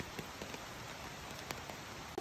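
Steady rain patters on surfaces along the Appalachian Trail in southern Virginia, a soft continuous hiss with scattered louder drops, fairly faint, with no voices.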